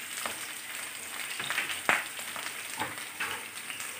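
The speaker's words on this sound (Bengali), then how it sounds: "ফুলকপিটা সুন্দর করে হালকা হালকা নুন দিয়ে ফ্রাই করে নেবো।" Cauliflower fries in a pan with a little salt, a steady close sizzle running throughout with a few faint stirring clicks on top.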